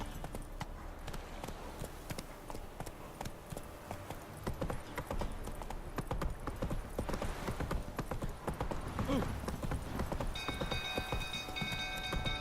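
Roach, the horse in The Witcher 3, gallops at speed with a rapid, steady clip-clop of hooves, close and continuous over a busy game soundscape.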